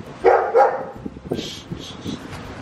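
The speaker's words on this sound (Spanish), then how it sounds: "hay perros del otro lado, mira." Dogs bark from behind a fence, two loud close barks at the start followed by scattered softer yips and whimpers.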